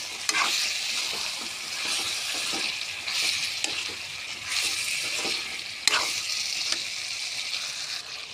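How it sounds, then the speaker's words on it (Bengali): Chicken frying in a pan for a spicy chicken curry, a steady close sizzle broken by repeated scraping strokes of a stirring spoon, loud and without any voices. "চিকেন ছেড়ে দিলাম দিয়ে নাড়াচাড়া করতে থাকবো"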